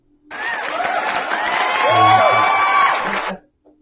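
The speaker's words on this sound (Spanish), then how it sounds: "A ver, un aplauso para esta." A mathematics class bursts into applause mixed with shouts and whoops, loud and close for about three seconds before stopping abruptly.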